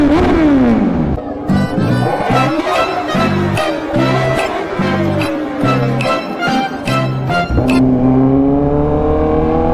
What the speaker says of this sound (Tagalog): Grabe na ang traffic ngayon.